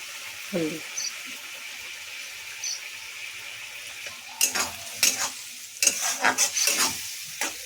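Chili and turmeric spice paste with ginger, cumin and garlic fries and is stirred in a pan, a soft sizzle under scattered spoon scrapes that grow busier and louder toward the end.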